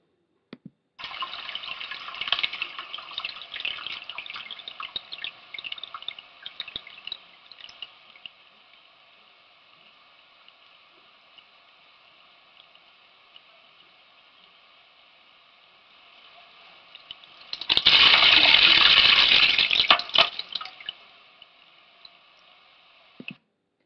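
A Japanese bamboo water fountain slowly filling with a steady trickle and drip of water, then releasing a louder rushing gush of poured water before the trickle resumes, heard close with no voices.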